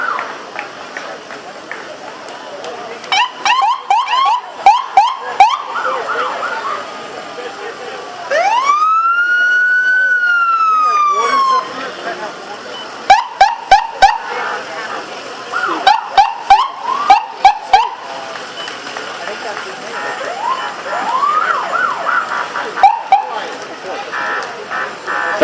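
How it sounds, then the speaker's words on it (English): Montclair Ambulance Unit sirens at an Independence Day parade, a loud close sequence of short yelps and whoops with a sustained wailing tone in the middle, along with crowd noise and some talk. "We're getting to figure out which is which siren, right?"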